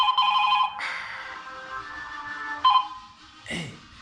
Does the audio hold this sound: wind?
no